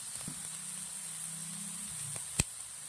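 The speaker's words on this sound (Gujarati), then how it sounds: "સૂકી દ્રાક્ષ અને થોડુંક એવું લીલું લસણ, ઝીણું સમારીને થોડી વાર શેકી લઈશું તેના અંદર" Raisins and finely chopped green garlic roast in a hot pan for mushroom masala, giving a steady soft sizzle and hiss throughout, with one sharp pop near the end.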